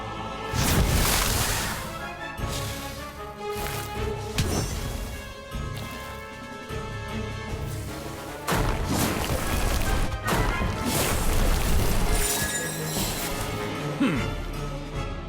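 An Incendio fire spell is cast in Harry Potter Magic Awakened, with repeated crashing, thwacking impacts and bursts over busy game music and effects, loud and layered throughout.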